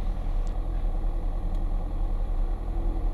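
Piper PA28 light aircraft piston engine held at 1200 RPM during pre-takeoff checks, a steady low drone with a constant throbbing pulse filling the cabin, loud and unbroken, with no talk over it.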